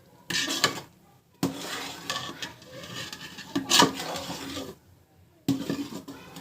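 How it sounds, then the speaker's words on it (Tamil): Peanut laddu mixture being stirred in a pan with a utensil, producing scraping and clinking in a few intermittent stretches, moderately close with faint sizzling texture. "ஸோ இது வந்து கலக்கினே இருக்கணும்"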